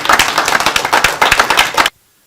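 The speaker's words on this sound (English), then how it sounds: "Wow, please, can you clap?" Audience members at a security event in Nigeria clap together briefly and loudly, a close burst of quick claps that stops abruptly into silence.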